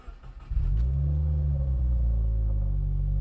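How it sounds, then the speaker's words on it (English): A manual car engine cranks and catches after a brief pause, then settles into a steady, loud, low idle rumble that continues without talk. "Now, start the car normally."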